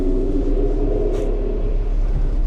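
A steady, deep 3.6L VR6 engine with big cams in an AWD MK6 GTI rumbling at idle, loud and close, with a low throbbing drone and no voices.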